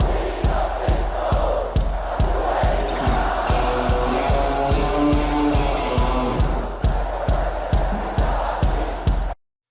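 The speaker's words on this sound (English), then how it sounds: "Clearly the crowd knows the song." Large concert crowd singing along to a song, a massed chorus of voices over a steady pounding beat, loud and continuous before cutting off abruptly at the end.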